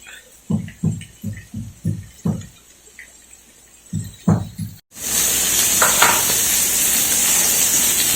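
Panch phoron spices dropped into mustard oil in a wok for Bengali aloo dum, a sudden loud dense sizzle that bursts in midway and holds steady, preceded by a series of dull rhythmic thumps.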